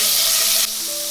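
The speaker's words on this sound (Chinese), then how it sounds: "重新起锅，加入少许油，把肉末放进来煮香。" Minced meat sizzles in a little oil in a wok, a steady close hiss of frying that drops slightly in intensity partway through and continues without talk.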